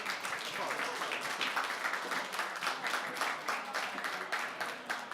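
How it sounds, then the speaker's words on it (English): Steady crowd applause fills the room at a hackathon winners announcement, cheering the finalists. The dense clapping is moderately loud and continuous, with some voices mixed in. "please give applause for everybody"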